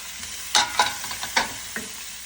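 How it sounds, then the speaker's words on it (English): Onion and curry leaves sautéing in a pan for a South Indian upma, a soft sizzle broken by several distinct stirring scrapes, close and fairly quiet. "And saute them until it's almost caramelized."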